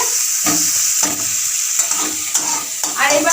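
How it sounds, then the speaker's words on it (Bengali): Onion sizzles steadily in hot oil in a kadai, a loud continuous hiss broken by a few sharp stirring scrapes and clatters. "তেলটা গরম হয়ে গেছে, তো তার জন্য আমি আগে একটুখানি এই যে পেঁয়াজটা দিয়ে দিই।"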